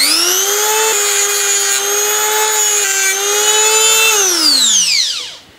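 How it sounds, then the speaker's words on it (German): A power grinder flattens a rivet head flush with sheet metal, giving a close, loud, steady high-pitched whine for several seconds that shifts slightly in pitch, then spins down and fades at the end. "Ich schleife den Nietkopf plan, damit er bündig mit der Blechfläche ist."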